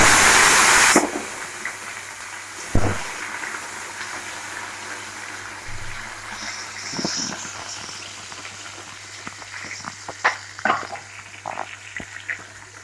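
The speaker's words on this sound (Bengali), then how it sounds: "আমাদের তেলটা গরম হয়ে গেছে, দিয়ে দিলাম গোটা গরম মশলা।" Whole garam masala spices drop into hot oil and fry, starting with a loud crackling burst, then settling into a steady sizzle dotted with sharp pops and spits.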